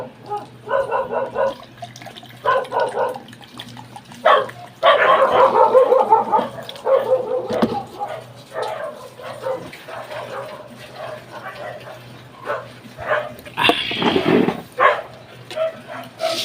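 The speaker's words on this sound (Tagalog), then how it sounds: "Iingay ng aso ah." Several dogs bark in repeated bursts, some sharp yips among them, with a person talking at times and running water in the background.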